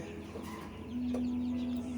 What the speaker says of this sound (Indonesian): kita kasih makan untuk ayam-ayam kita tadi